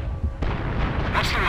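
An artillery barrage fires in the World War II strategy game Company of Heroes, with heavy booming blasts and rumbling bursts close by, one sharp shot followed by a rolling second volley, while voices talk over it.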